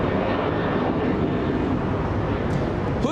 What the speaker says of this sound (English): We're going to have two tri-jets on taxiway Alpha.